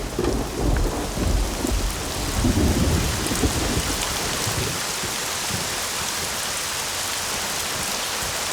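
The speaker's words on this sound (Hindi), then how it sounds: "लेकिन बारिश आ गई।" Heavy rain pouring steadily outdoors at night, a dense close hiss with low rumbling thunder in the first half that fades, leaving only the steady downpour.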